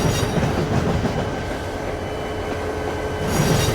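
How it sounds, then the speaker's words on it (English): A train rumbles steadily at a station with rail clatter and faint wheel squeal, the sound rising slightly as it draws closer. "said Randy, as Andrew puffed back into the station with the American Freedom Train passenger coaches."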